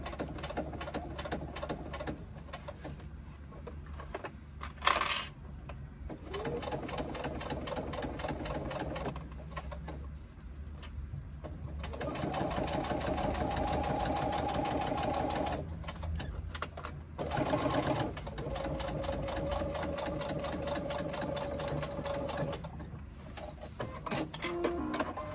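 A sewing machine bastes a narrow 1/8 inch seam close to the fabric edges, its rapid steady stitching running nearly continuously, broken by a few short pauses.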